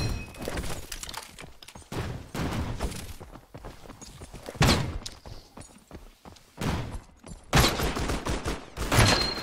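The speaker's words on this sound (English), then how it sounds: "I'm getting shot." Gunfire in the video game Knightfall: several loud, close bursts and single shots broken by short pauses, with scuffling and impacts between them, and no talk.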